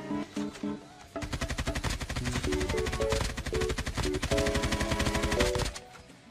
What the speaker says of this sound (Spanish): Ya me está disparando de los tres de nuevo.